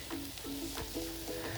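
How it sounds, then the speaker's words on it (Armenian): Bulgur fries in a pan and is stirred, giving a soft continuous sizzle with periodic scraping strokes, fairly quiet and close, with no voices. "Տապակման process-ը կատարում ենք։"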